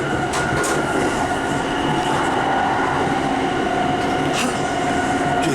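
Steady rolling rumble from inside the Sunrise Express sleeper train in Japan, with rhythmic wheel clatter and a few faint squeals and clicks over a constant loud drone, no voices.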